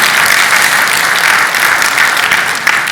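A conference audience of environment, health and safety leaders at Cority Connect 2026 gives sustained, dense, loud applause with no talking over it.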